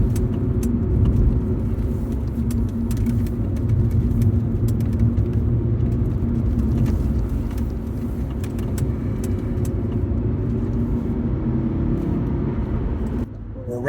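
A vintage Audi RS2 drives twisty roads in second gear, its engine a steady, close drone that holds level throughout and then drops away briefly at the very end.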